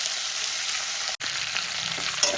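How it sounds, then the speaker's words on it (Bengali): Katla fish heads fry in hot oil in a kitchen pan, giving a loud, steady, close sizzle with a brief dropout and a small clink near the end. "মাছের মাথাগুলো এরকম আমি ভেজে তুলে নেব"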